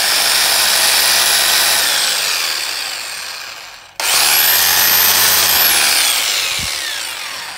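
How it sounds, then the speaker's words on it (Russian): A rotary hammer drill in drilling mode whirring loudly and steadily up close, winding down to a stop, then starting again at full speed and gradually slowing. "у данного перфоратора есть только режим сверления"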